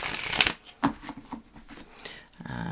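A deck of tarot cards being shuffled by hand: a quick riffle burst, then a few softer slides and taps of cards, close and brief.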